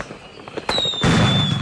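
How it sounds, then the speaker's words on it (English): A firework played back over a radio show: a sharp crack followed by a loud, sustained burst with a high whistling tone trailing through it, close and prominent. "can Omar identify the firework"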